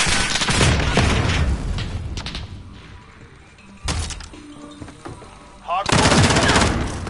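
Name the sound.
grenade explosion and gunfire from a video game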